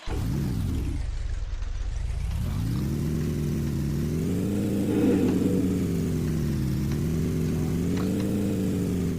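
A car engine in a video game revs up steadily and drives off in a Chernobyl Pripyat mission, pitch rising and wavering as it accelerates, a continuous close drone with no talk.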